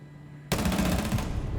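Rapid pre-fire gunshots in a tactical shooter match on the Oregon map, a sudden loud burst of automatic fire that starts after a quiet moment and continues densely to the end.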